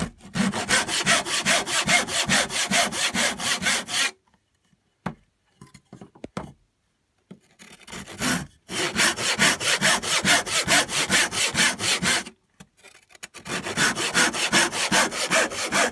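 A hand saw cutting through a wooden frame joint, with rapid rhythmic back-and-forth strokes in two long bursts separated by a quiet pause with faint knocks, loud and close.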